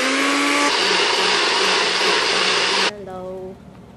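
A kitchen blender whirs loudly and steadily while making a smoothie, its motor whine running for about three seconds before cutting off abruptly and spinning down, leaving quieter room sounds behind.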